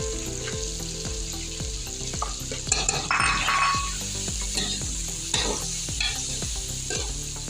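Vegetables and garlic frying in a pan for Chinese pulao, a continuous sizzle under a regular rhythm of spatula scrapes and stirring strokes, close and alone without talking.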